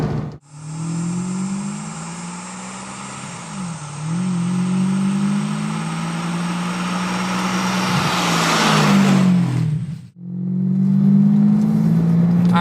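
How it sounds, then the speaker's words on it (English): A Ferrari 550 Maranello's V12 engine accelerates hard, its smooth, loud note climbing in pitch through several gear changes, with a brief drop and a near-silent gap before it pulls again. No one speaks. "nothing smoother than a V12. The sound is pretty unreal."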